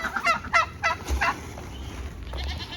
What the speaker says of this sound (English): Yes, turkeys.